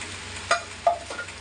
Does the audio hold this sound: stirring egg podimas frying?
yes